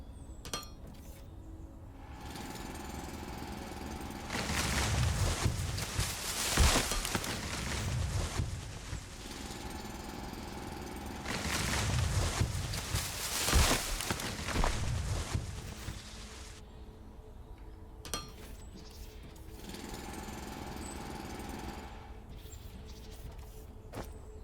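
A handheld mining drill in the factory game Foundry grinds through biomass in two long bursts of harsh, buzzing noise with crunching breaks, separated by quieter pauses and a few short clicks.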